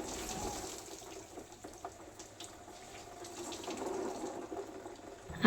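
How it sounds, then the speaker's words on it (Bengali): Running water splashes and trickles as a table and gas stove are washed down in a tin-and-clay kitchen, a continuous close wash with small clatters. "নিয়ে এসে কিন্তু আবার ভালো করে ধুয়ে নিচ্ছি টেবিলটাকেও আর গ্যাসটাকেও"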